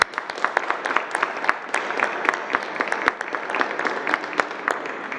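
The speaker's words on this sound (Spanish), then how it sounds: "A los maestros, a los directores, un aplauso por acá" Audience applause for children and teachers at a cultural program presentation during a Mexican government morning press conference, steady dense clapping filling the hall with sharper individual claps popping out.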